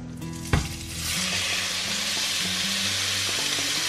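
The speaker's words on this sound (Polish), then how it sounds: "Mięso dodałam na rozgrzane 2 łyżki oleju. I obsmażamy" Meat for dan dan udon hits two spoons of hot oil in a pan with a sharp thud, then sizzles loudly and steadily up close, with a few stirring clicks.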